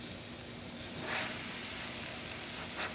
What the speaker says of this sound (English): steam working fine.